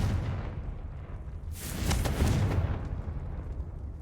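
A Confringo fire spell cast in the Hogwarts Legacy video game bursts out as a loud, whooshing fiery blast mid-clip, swelling then fading over a low rumbling game ambience.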